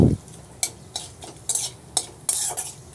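Bay leaf, cinnamon and cardamom frying in a spoonful of hot oil for Bengali basanti pulao, with a low sizzle broken by several sharp, close spoon scrapes and clinks at irregular intervals, no voices.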